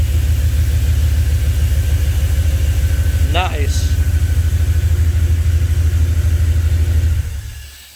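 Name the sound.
V8 engine idling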